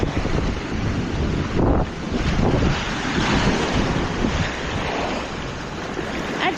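Active sea waves surge and wash along a rugged San Diego coastline, with steady gusting wind buffeting the microphone in a loud continuous roar and no voices.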